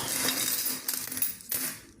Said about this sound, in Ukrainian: Перебираю, значить, такі монетки.